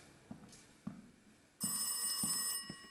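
An old-style telephone bell starts ringing loudly and continuously partway through, preceded by faint footsteps in a quiet room, in the horror game Rise of Insanity.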